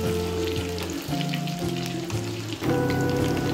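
Chicken 65 pieces deep-fry in a pan of hot oil with a loud, continuous bubbling sizzle that sounds like rain. Tonal background music plays beneath it, and no one speaks.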